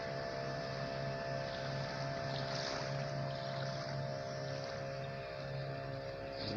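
A boat motor hums steadily on the water at Assinie, Ivory Coast, a low continuous drone with wind and light wave noise around it.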